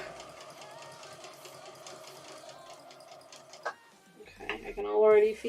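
Sewing machine stitching a cotton quilt seam, a steady close mechanical whir that stops abruptly partway through, followed by handling noises and a voice speaking.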